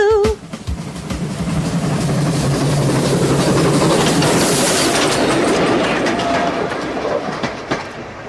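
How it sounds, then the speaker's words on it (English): A train rumbles past loudly with a continuous roar and rhythmic clatter, building and then easing slightly as it passes through an enclosed space. "Did you see the way the train went through the tunnel?"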